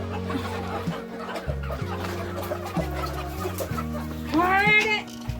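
Village hens settled to brood on eggs cluck softly at close range, a louder run of clucks rising near the end over a steady low background hum.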